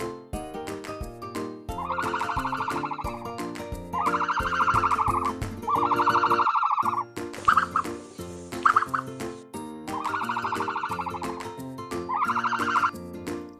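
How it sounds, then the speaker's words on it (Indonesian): A turkey gobbles in several long, loud warbling bursts, separated by short pauses and a couple of brief clucks. "Kalkun bahasa Inggrisnya turkey."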